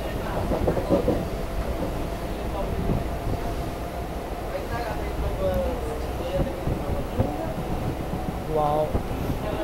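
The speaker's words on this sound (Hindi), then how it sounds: "और तुरंत रवाना हो जाती है अगले स्टेशन के लिए।" A Mumbai local train on the Karjat to Khopoli line pulls away from a station, a steady rumble with wheel clatter and occasional squeals, while voices talk over the running noise.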